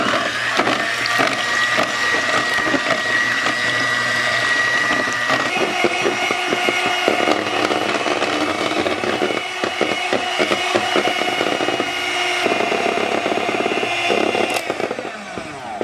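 Electric mixer whipping heavy cream with powdered sugar and vanilla extract toward soft peaks, a loud continuous motor whine with a rattling, churning texture that shifts pitch slightly as the beaters move, no talking.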